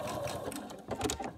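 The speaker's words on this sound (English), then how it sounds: "we're sewing another 1/4 inch seam to the right of this diagonal line" A sewing machine running a quarter-inch seam through quilting fabric gives a brief steady mechanical hum, close and even throughout.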